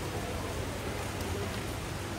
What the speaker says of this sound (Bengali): বৃষ্টির পানি পড়তেছে কৃষ্ণচূড়ার গায়ে, অসাধারণ একটা দৃশ্য।